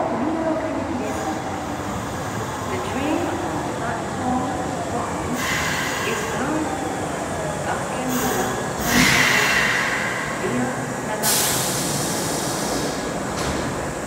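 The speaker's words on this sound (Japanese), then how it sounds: "1番線に到着の電車は長田方面学研なら富ヶ丘行きです。" An Osaka Metro Chuo Line train pulls into Midoribashi station with a steady rumble of wheels on track, plus bursts of hissing brake air and squeals. A platform announcement voice plays over the arrival.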